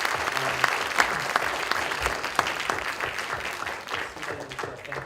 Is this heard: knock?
no